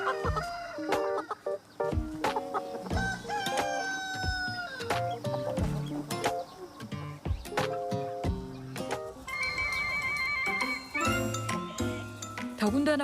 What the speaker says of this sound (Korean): 그렇게만 해주면 닭들은 알아서 잘 놀고 잘 먹고 사랑도 잘